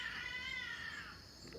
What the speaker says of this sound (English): when cats are fighting, it sounds like something straight out of the pit of hell